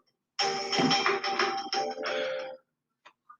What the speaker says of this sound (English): Hold on, guys, got to answer the phone.